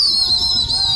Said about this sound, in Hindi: दोस्तों कबूतर मिलने के बाद आवाज मारी जा रही कबूतरों को